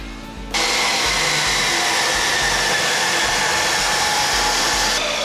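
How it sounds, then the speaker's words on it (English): Power tool cutting steel tube along marked lines for a van spare tire carrier, a loud steady high whine that starts abruptly after a brief quieter moment and holds constant throughout. "Now the only thing left is to cut on the tube marked lines."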